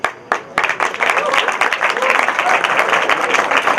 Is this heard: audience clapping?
yes